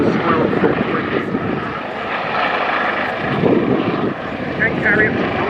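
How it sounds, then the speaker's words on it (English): An H135 Juno training helicopter flies at an RAF Valley air display, a loud, steady engine and rotor roar sustained throughout with a commentator talking over it. "H135 Juno helicopter."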